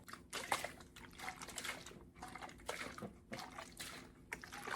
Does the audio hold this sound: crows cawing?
no